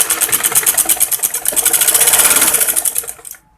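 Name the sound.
normal sewing machine stitching embroidery on kurti neck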